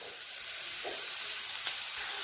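Spinach tipped into a hot pan of sautéed garlic gives a steady, soft broadband sizzle and hiss that runs evenly throughout, with one brief brighter crackle near the end.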